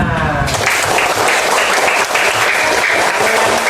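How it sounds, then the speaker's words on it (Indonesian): Students in a classroom clap together for their group work, a dense, steady burst of applause that runs loud and unbroken throughout, with a brief voice at the very start. "Beri tepuk tangan untuk kita semua."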